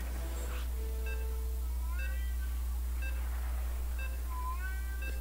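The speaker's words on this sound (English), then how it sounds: "Can you hear my cat in the background?" A pet cat meows several times in the background, with short rising and falling calls spread across the clip over a steady low electrical hum, no talk.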